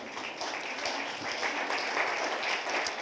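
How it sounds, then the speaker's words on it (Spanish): Congregation in a Spanish-speaking church clapping in praise after a welcome, a continuous, somewhat distant patter of many hands at a modest, even level. "Un aplauso al Señor."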